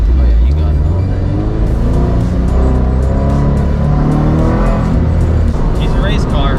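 A turbocharged FR-S engine drones loudly from inside the cabin as the car accelerates and drives on a street with stop signs, with people talking over the steady engine noise.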